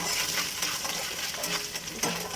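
Fresh green chillies dropped into a hot pan for a home-style fish curry, giving a close burst of light clatter and crackling sizzle over a steady frying hiss.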